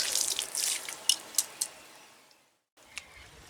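Raw turmeric roots being lifted out of a bowl of soaking water, with splashing and dripping, a few distinct drips and splats, then a brief near silence and one more drop, close by.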